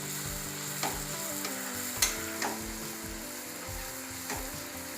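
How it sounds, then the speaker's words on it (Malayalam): Egg pathiri, a Malayalam stuffed pastry, fries in hot oil with a steady close sizzle, while a few faint clinks and scrapes land over the bubbling. "നമുക്ക് ബാക്കിയുള്ളത് ഇതുപോലെ പൊരിച്ചെടുക്കാം."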